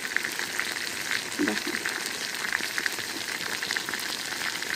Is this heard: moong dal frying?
yes